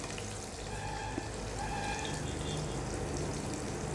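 Capsicum and other vegetables for sewai chowmein stir-fry on a high flame, a steady, loud, broadband sizzle that continues for several seconds with a faint clink or two and no speech.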